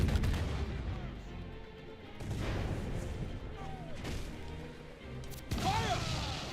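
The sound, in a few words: ship cannons firing in a pirate video game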